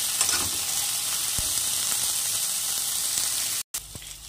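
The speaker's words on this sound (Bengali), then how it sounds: "দিয়ে আবারও নেড়ে চেড়ে সবজিটাকে একটু ভালো করে ভেজে নিতে হবে।" Vegetables frying in a pan with steady, loud sizzling, broken by a few stirring scrapes and a brief cutout near the end, with no talk.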